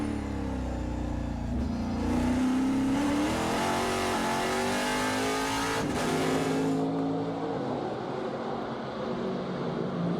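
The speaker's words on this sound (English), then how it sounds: "as we hear him downshift into third gear" Trans Am race car at Portland International Raceway downshifting into third gear, its engine note dropping then climbing again as it accelerates, loud and close, with the roar easing near the end.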